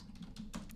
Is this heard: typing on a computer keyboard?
yes